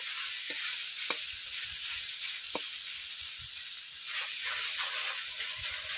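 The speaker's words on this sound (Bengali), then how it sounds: "শাকগুলো গোঁড়া গোঁড়া ছিল, খুন্তি দিয়ে এইভাবে আমি নেড়ে নিচ্ছি।" Sautéed susni saag greens and onions are turned with a metal spatula in a pan: soft continuous frying hiss broken by a few sharp scraping strokes, close and fairly quiet.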